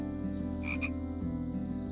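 A frog in the Mungyeong doline wetland croaks repeatedly in clear, close calls, a steady rhythmic rasp over a quiet outdoor background.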